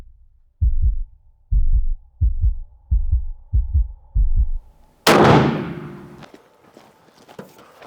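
A rifle shot fired while hunting a leopard in Namibia rings out as a single loud, sharp crack with a long decaying echo, coming after a string of low, rhythmic thumps.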